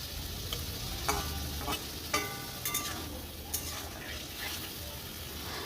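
Prawns fry in hot oil with salt and turmeric in a village kitchen, a steady soft sizzle broken by a few light scraping and tapping strokes as they are stirred in the pan.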